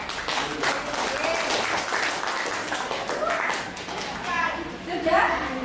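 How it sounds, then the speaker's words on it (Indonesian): Classmates in a school classroom clap for a group that has just presented, a steady burst of hand claps lasting several seconds with children's voices chattering underneath. "Tepuk tangan buat kelompok 4 ya"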